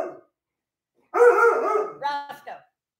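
A dog barks loudly and close, one sustained bark followed by two shorter yips after a brief silence.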